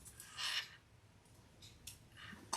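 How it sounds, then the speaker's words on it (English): Scissors snip through a spare length of bag zipper in a few quiet, close, crisp cuts spaced apart, with near silence in between. "We'll cut off that extra zipper right here"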